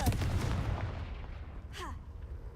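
Confringo blasting spell cast in a Hogwarts video game: a sharp booming blast at the start with a rumbling tail, then a short whooshing sweep near the end, no talk.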